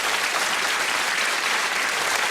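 A studio audience applauding, a dense and steady burst of clapping close and loud throughout, with no voices over it.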